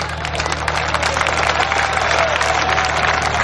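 A crowd at a school intermediate farewell party in Multan applauds as prize winners come up to the stage, with loud, dense, sustained clapping, a faint electrical hum underneath and a few scattered cheers.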